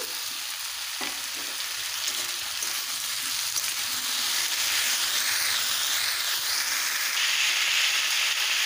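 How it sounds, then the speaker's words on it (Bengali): Sweet pumpkin and taro pieces fry in hot oil in a pan, giving a loud, steady sizzle and hiss that grows slightly louder midway, with no talking. "এবারে দিয়ে দেবো মিষ্টি কুমড়ো, এবারে দিয়ে দেবো মুখি কচু"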